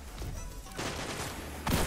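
Hand cannon fire in a Destiny 2 Iron Banner PvP match, a few loud game gunshots amid a busy wash of game sound, with a heavier burst near the end.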